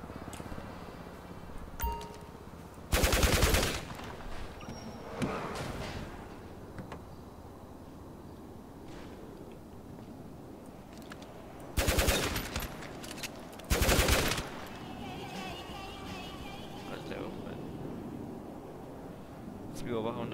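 Gunfire in a video game while the player flies around in noclip: a few short, loud bursts of shots spaced across the clip, over a steady game background with occasional voice chatter.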